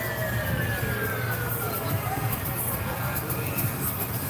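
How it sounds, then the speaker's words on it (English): Wailing sirens rise and fall in the distance over a steady rumble of traffic noise at a July 4th parade in Columbus. "you hear some sirens in the background"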